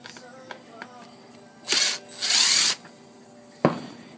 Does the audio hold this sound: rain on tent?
no